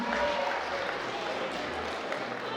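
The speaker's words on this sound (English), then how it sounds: "How about another round of applause for Aaron and Megan and everyone that gave a speech?" Wedding guests clap after the speeches in a reception hall, a moderate burst of applause that tapers off over a few seconds, mid-distance and fairly soft.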